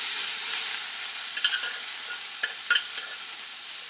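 Ingredients for a Kerala koottu curry go into a hot frying pan, giving a steady bright sizzle and hiss with a few sharp clicks of stirring near the end.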